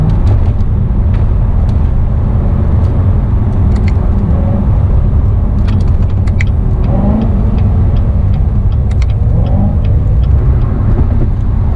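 A car cruising at 60 on a road gives a steady, loud engine drone and tire roar throughout, with faint clicks over the top and no talking.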